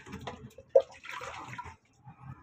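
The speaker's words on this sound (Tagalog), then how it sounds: "Dadagdagan natin ng tubig." Water pours into a washing machine drum during a manual top-up, a short splashing burst close by, with a brief bright drop sound and low background noise.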